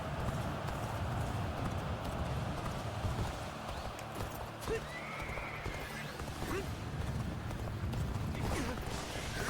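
Horses gallop in the Dynasty Warriors Origins video game. Rapid, continuous hoofbeats run over a steady battle din, and a couple of neighs cut through. No voice is heard.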